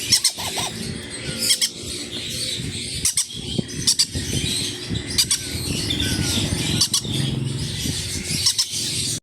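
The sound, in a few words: green-cheeked conure parrots squawking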